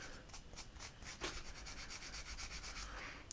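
A metal part from a KWC Tanfoglio Limited airsoft pistol is scrubbed with a brush, making quick, faint, repeated scratchy strokes in a steady rhythm close up.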